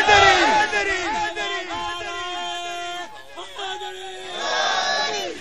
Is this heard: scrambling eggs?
no